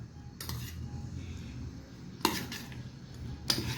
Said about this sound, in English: now into this I am going to garnish it with chopped coriander. That's all. Just mix this